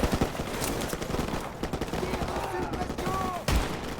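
Gunfire in the Call of Duty Modern Warfare campaign: bursts of rapid shots and sharp cracks, including a loud blast near the end, mixed with in-game voices and battle noise.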